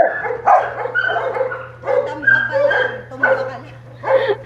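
A dog barks and yips repeatedly in close, uneven bursts, with a steady low hum beneath.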